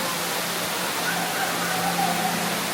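Ruby Falls, a waterfall hidden inside a mountain cave deep underground, pours as a steady, broad rush of falling water that fills the space evenly throughout, with no voices over it.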